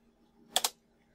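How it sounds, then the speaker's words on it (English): Two quick, close key clicks sound as a web address is typed on a computer keyboard, faint and alone against near silence. "Type google.com/two-step."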